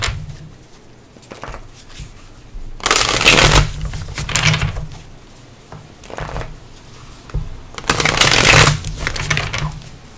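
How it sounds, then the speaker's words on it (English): A deck of playing cards being shuffled by hand, close and crisp, in two bursts of riffling with quieter handling and faint rustles between them. "I have to keep shuffling because I'm looking in the camera"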